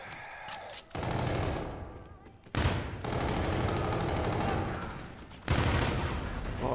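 Video game gunfire rattles in dense, sustained automatic bursts with almost no gaps. Each new volley starts with a loud sharp onset, and no voices are heard over it.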